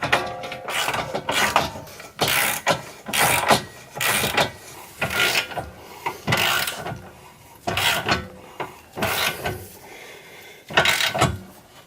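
Ratchet wrench tightening nuts while installing an angle kit on a BMW E36 drift car, a series of loud, close bursts of rapid clicking strokes repeating steadily with short pauses between.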